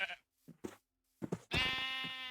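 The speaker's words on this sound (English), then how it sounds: "there's a whole bunch of sheep over there" A sheep bleats in a Minecraft-style blocky game world, with a few short, soft bleats and grunts followed by one long, loud, wavering baa at the end.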